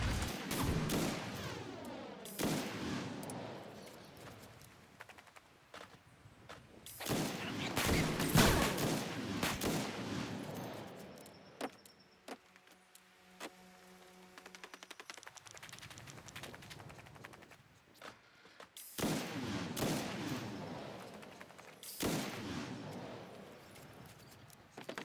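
Weapon fire in Fallout 76, bursts of sharp gunshots in clusters, loud and close, separated by a quieter stretch with faint tonal game sounds before more volleys resume.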